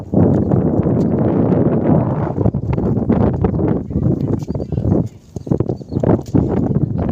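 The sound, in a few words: strong wind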